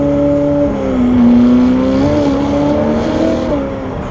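A Novitec-tuned Ferrari F8 Tributo driving on a slippery road, its engine droning loudly and close with a steady, slightly rising and falling pitch throughout.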